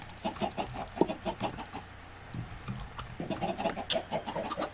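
Minecraft chicken clucking in repeated short bursts, a steady run of game clucks up close alongside soft blocky game sounds, with no talking.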